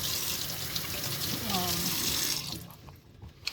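Vegetable for a salad rinsed under a running kitchen tap, a steady broadband rush of water that cuts off near the end, leaving a quieter room with a small clunk.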